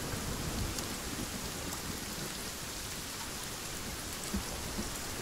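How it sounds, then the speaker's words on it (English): Heavy rain in the video game Sons of the Forest, a steady dense hiss of downpour spreading evenly across the full clip, loud and unbroken with no talking. "Wow, it's definitely raining."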